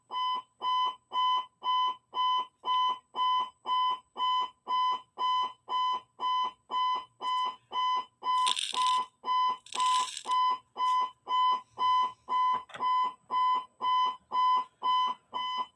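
An indoor fire alarm goes off during a live fly-tying session, with loud, evenly spaced beeps repeating steadily throughout and two short noise bursts partway through.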